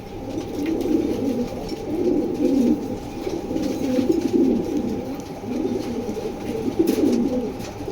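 Pigeons coo in low, throaty rolling phrases, repeated steadily and close by, with faint background hum and no talking.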